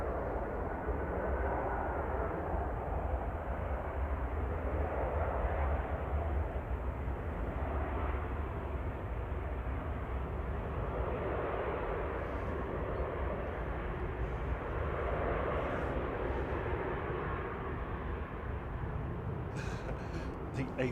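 An EasyJet airliner arriving from Nice touches down at Manchester Airport, a loud, steady broadband roar that holds for the full stretch, with occasional crow caws above it.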